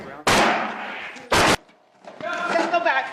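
Gunfire striking a police officer during a shooting: two loud, sharp broadband bursts about a second apart, the first longer and ringing, followed by scuffling noise and raised voices shouting nearby.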